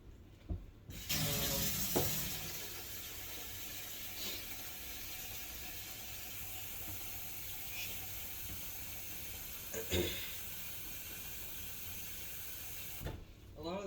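Water running from a kitchen faucet, a steady hiss of flow filling the sink that starts abruptly and stops near the end, with a few faint knocks and a voice briefly audible.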